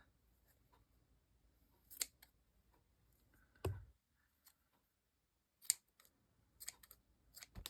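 Scissors cut paper pieces for binding a handmade journal: a few sparse, quiet snips and clicks separated by near-silence.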